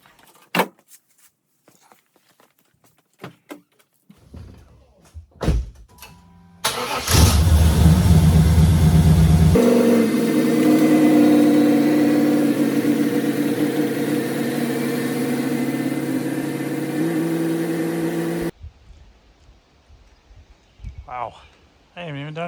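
A car engine starts and settles into a steady idle while the car is pulled outside for pressure washing, running for several seconds amid scattered knocks and clatter, then cutting off as a voice speaks.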